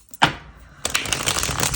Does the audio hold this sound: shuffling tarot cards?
yes